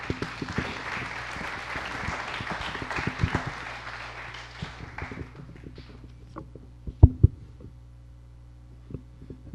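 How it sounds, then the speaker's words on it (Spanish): An audience at a school event on education in the Porfiriato gives a speaker a welcoming round of applause. Clapping is moderate and fades out by the midpoint, leaving low hum and a few scattered taps and knocks. "Un fuerte aplauso para él, por favor."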